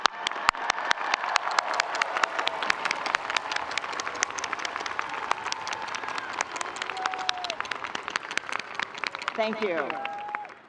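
A large university commencement audience applauds award-winning teachers with sustained, dense clapping that holds steady for several seconds, close and loud, with a brief voice near the end.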